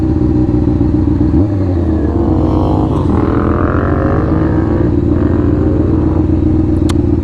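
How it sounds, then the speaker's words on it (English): An oncoming motorcycle sweeps past a cruising vehicle, its engine note climbing and falling as it passes close by over a constant loud road and cabin rumble. "every time I see a bike, they're going the opposite direction"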